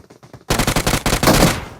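Rapid automatic gunfire in PUBG Mobile during a close-range fight: a short quiet lead-in, then a loud, dense burst of shots that rattles on steadily to the end.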